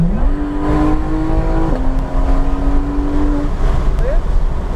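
A Porsche GT3 RS Weissach at full throttle on a track, its engine note climbing steadily with a gear change partway through, loud and close from inside the cabin.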